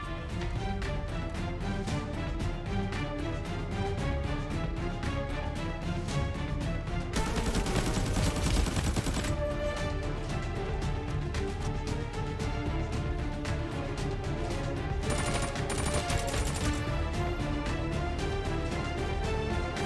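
Gunfire in the video game Arena Breakout, with dense bursts of rapid shots breaking through a loud, continuous music bed, the heaviest stretches coming midway and near the end.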